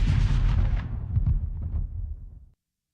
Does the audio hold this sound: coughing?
no